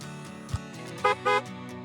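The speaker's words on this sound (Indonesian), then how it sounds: "dari dalam mobil menekan klakson" Two short car horn honks in quick succession, moderately close, after a faint thump.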